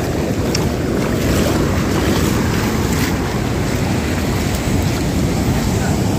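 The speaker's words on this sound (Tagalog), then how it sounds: "Grabe ng alon, no?" Big storm waves on the open sea, heard from aboard a boat on a typhoon day, with a steady loud roar of surf and water mixed with heavy wind buffeting the microphone throughout.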